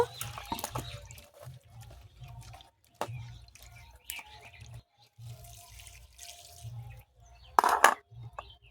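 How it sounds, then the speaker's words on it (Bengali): Cut elephant apple pieces are rinsed with water in a bowl, with splashes, drips and the handling of wet fruit, close, with a louder splash near the end, no talk. "এইভাবে টুকরো টুকরো করে ভালো করে জল দিয়ে ধুয়ে নেব"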